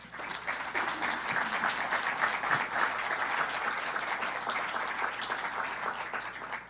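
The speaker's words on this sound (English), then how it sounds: "let's everybody just give all of everyone who participated a big thunderous round of applause" Big round of applause from a crowd at a mayor's celebration of the first electrified roadway, sustained thick clapping held at a constant level from start to finish.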